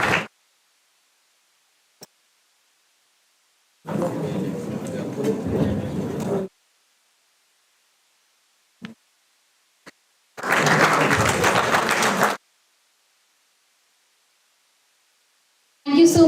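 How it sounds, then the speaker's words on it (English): Audience applause at an international conference on communication, security and artificial intelligence, in two loud sustained bursts of roughly two to three seconds each, separated by a short near-silent gap. "Can you please have a huge round of applause?"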